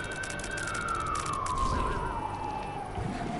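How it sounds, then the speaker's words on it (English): Outside a residence, an ambulance siren sounds a long, gradually falling tone with a brief warbling burst midway, moderately loud and receding over low ambient noise with no speech. "Go, ambulance, go."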